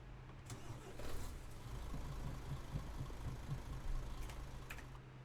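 Old-style truck engine from Euro Truck Simulator 2 running steadily at a low, droning idle, with a continuous deep hum and a few faint clicks over about five seconds.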